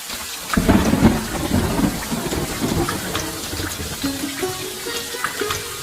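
Heavy rain pours steadily while deep thunder rumbles and rolls, strongest early on, with no one speaking.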